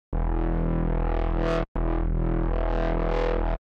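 Two loud, buzzy synthesizer notes from Surge XT with a filter sweeping up and down, giving a wobbling, distorted tone separated by a brief gap.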